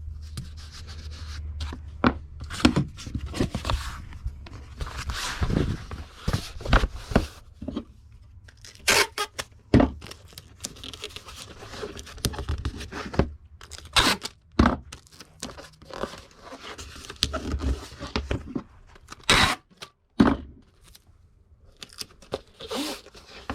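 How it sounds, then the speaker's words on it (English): Packing tape is pulled off a roll and torn while a comic book or sports card shipment is secured, giving repeated sharp ripping and crinkling bursts with short pauses between them. "We'll tape it down so it doesn't move around."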